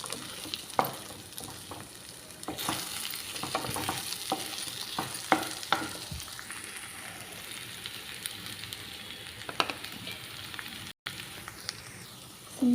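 Eggplant (vankaya) frying soft in a pan while being stirred, a close, continuous sizzle broken by frequent clattering scrapes and knocks of the spatula, busier early on and settling into a steadier hiss later, with no voices.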